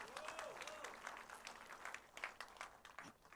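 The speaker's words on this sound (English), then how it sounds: "a huge round of applause for the 6th edition of React India" Applause from a conference audience at React India 2025, the sixth edition, a dense wash of clapping that holds steady throughout, with faint voices and a tonal sweep mixed underneath.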